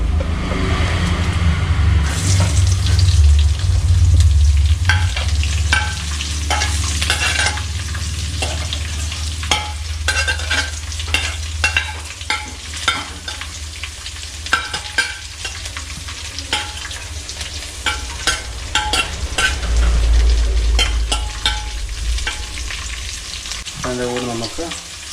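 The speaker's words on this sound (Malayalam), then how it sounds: "ചെറിയ ഉള്ളി അരിഞ്ഞത് കൂടെ ഇഞ്ചി വെളുത്തുള്ളി പേസ്റ്റ് കൂടെ ഇട്ടിട്ട് നന്നായിട്ട് ഇളക്കി കൊടുക്കാം" Chopped shallots and ginger-garlic paste stirred with fried coconut pieces for a Kerala-style country chicken curry, a steady loud sizzle broken by repeated scraping strokes of a spoon against the pan, with no one talking.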